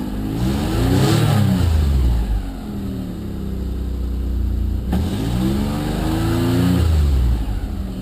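A car engine with a Varex muffler in the closed position revs up to about 5,000 rpm twice, each rise swelling loudly, holding briefly and dropping back to a steady idle between.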